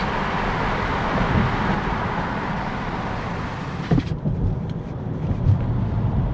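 Steady roaring wind rushes through the four open windows of a moving Kia EV3, a dense continuous buffeting that dips slightly near the end, with no voices.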